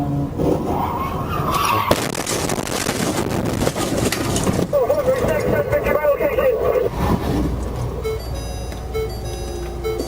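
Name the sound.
semi-truck crashing into patrol car and stopped semi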